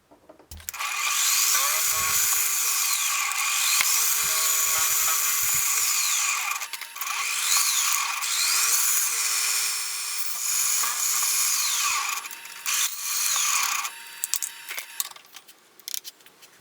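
A small power drill bores holes for connectors in a gear pump build, whining up and down in pitch over several close bursts with pauses between them.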